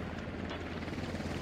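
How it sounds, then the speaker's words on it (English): An enemy helicopter in the military shooter Squad roars with a dense, continuous rotor thrum and broadband engine wash, loud and steady throughout with no pauses. "Enemy chopper coming in from the west."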